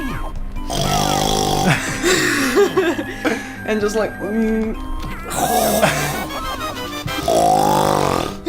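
A person imitates loud snoring with their voice, exaggerated rasping snorts in several bursts, mixed with laughter and chuckling from others talking close by.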